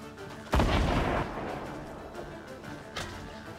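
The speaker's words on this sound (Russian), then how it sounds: "Чувак в одну каску заливает всех гранатами." Grenade blasts in the Fortnite battle royale game: one loud, close boom with a rumbling tail, then a second, fainter burst a couple of seconds later.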